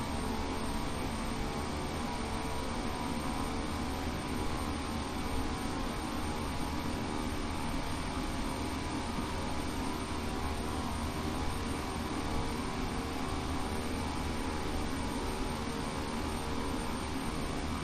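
Steady turboprop drone of the default Beechcraft King Air 350 in FSX, a constant broadband roar held at even loudness throughout with no breaks or talk.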